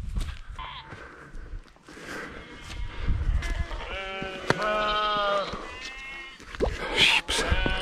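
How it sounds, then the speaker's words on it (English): Several sheep bleat near a village in the Bosnian mountains, with overlapping wavering calls clustered in the middle and toward the end, mixed with outdoor noise, footsteps and a voice talking. "Look at the sheeps."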